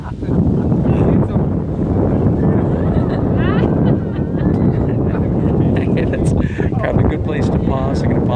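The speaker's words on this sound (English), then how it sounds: "Very windy, I know." Strong wind buffeting the microphone with a constant low rumble, while voices talk faintly in the background.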